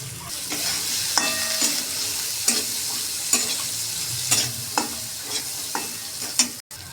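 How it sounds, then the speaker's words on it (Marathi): Fresh green chickpeas sautéing in spice masala over low heat, giving a continuous loud sizzle with repeated rhythmic scrapes of a spoon stirring the pan roughly every half second to second. "या मसाल्यात चांगले परतून घ्यायचे आहेत."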